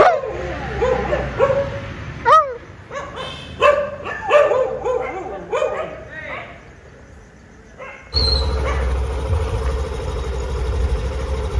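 Several dogs bark and yip near a garbage spot in bursts of sharp, close barks, with a voice heard among them, then give way to a steady engine-like rumble.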